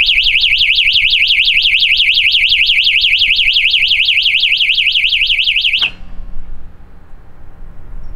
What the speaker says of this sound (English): If for whatever reason power is lost on the phase the VBI15 is connected to, it will alarm